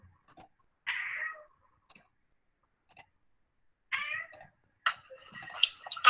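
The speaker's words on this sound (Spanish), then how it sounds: "¿Y se escucha el gato que está molestando acá?" A cat makes short, rough cries in a room, two bursts a few seconds apart, each followed by faint clicks and ticks. The room is otherwise quiet, with no talking.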